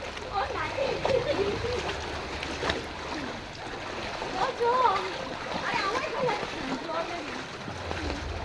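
Floodwater after heavy rain sloshes and splashes steadily close by, a continuous watery churn, with people talking over it throughout.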